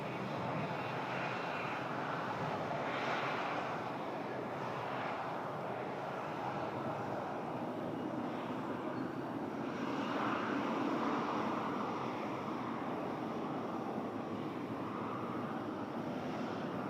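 Airliner at Toronto Pearson airport, a steady broad jet engine roar holding at moderate distance for the whole stretch, with light wind noise and no speech.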